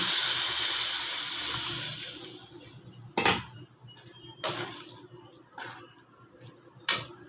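Tamarind water pours into a simmering dried fish curry with a loud hissing sizzle that fades, followed by several sharp clinks of a utensil against the pot.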